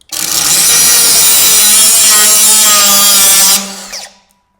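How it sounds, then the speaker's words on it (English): DOVAMAN DCS20A cut-off tool grinding down the end of a metal bolt, a loud, steady high-pitched abrasive whine held for several seconds before it spins down, close up and with no talking. "I want to just shave that down flat."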